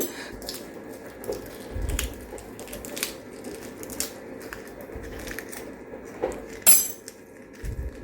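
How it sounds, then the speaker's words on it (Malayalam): Metal spoon working between a boiled egg and its shell, giving scattered scraping clicks and small crunchy cracks with a few louder clinks, close up and without talk. "ഇതാ ഈ ഒരു രീതിയിൽ നമുക്ക് പെട്ടെന്ന് തന്നെ മുട്ട തൊണ്ടുകളഞ്ഞെടുക്കാം"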